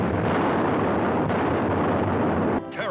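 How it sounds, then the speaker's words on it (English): A loud, dense roaring blast rumbles continuously for a few seconds, like a big explosion in the 1957 film The Black Scorpion, then cuts off abruptly. "Starts with explosions"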